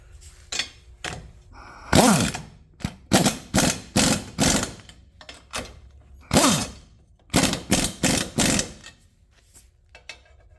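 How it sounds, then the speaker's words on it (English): A ratchet wrench tightens the bolts on a Harbor Freight adjustable tow bar, giving repeated loud bursts of rapid clicking in short, irregular runs with brief pauses between strokes. "now I'm just going to tighten up all of the bolts here"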